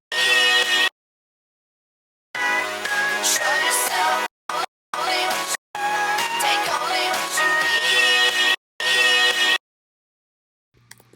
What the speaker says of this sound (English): This is what this sounds like with the high pass filter.